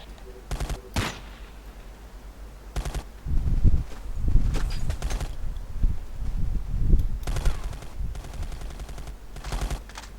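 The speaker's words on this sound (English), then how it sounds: "We're pinned down. Taking some heavy fire." Heavy gunfire in the Ghost Recon Desert Siege video game: sharp automatic bursts crack out in several clusters, loud and close, while voices murmur low between the volleys.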